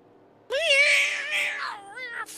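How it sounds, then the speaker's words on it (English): Cats howling and yowling at each other in a fight, a loud, drawn-out rising and falling caterwaul close by, then shorter wavering cries near the end. "And if you hear strange howls behind me, the cats are fighting."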